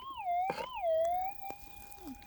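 A metal detector sweeps over a small gold target on a surface patch, producing a warbling electronic tone that rises and dips, with a couple of short thumps from the coil and ground.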